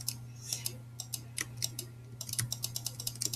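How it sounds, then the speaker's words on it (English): Rapid mouse clicks while playing the browser game Diep.io, sharp close ticks arriving in irregular bursts over a steady low hum. "Sorry for all the clicking noises."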